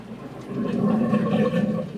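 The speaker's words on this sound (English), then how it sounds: "That was my overflow box. It just completely drained itself." An overflow box drains completely in a short burst, water gushing and gurgling away, a loud rushing swirl lasting about two seconds, heard close up.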